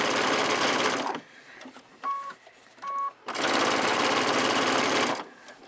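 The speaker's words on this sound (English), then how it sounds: "then with a very close stitch to the edge, a top stitch" A sewing machine topstitching close to the edge of a quilt binding runs in two long, loud, rapid whirring bursts, with a few brief clicks and short tones in the pause between them.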